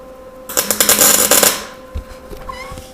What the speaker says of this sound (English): put that in the vise and we'll turn on our welder